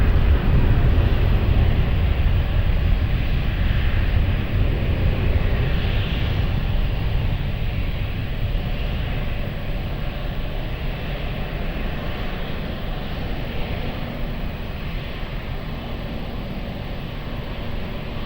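An airliner taking off from runway 20 at Lisbon Airport, a steady broad engine roar held for the whole stretch, loud and constant with no voices over it.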